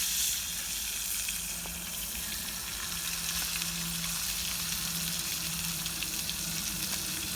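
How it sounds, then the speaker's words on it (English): Food frying in a pan over a campfire at a winter woodland camp, a continuous close sizzle and hiss with faint stirring and soft crackle, steady throughout and no talk. "Poor Lee's cooking his tea now after he's cooked mine."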